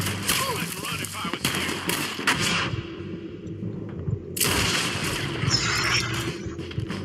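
Gunshots ring out in Red Dead Redemption 2 as a few sharp, loud cracks with low rumbling in between, and a background hum runs underneath.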